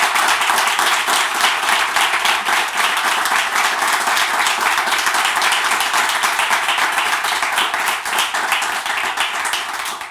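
Sustained audience applause after a talk-show discussion, steady and dense clapping from a crowd throughout, fairly loud with no break.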